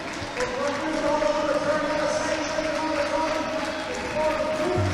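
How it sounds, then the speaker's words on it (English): A crowd applauding and cheering at the finish of an under-12s 4x200 metre relay race at a track and field meet, a sustained broad roar mixed with clapping under a commentator's continuous talk. "So big round of applause there from the crowd."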